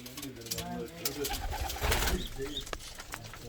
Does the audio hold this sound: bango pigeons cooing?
yes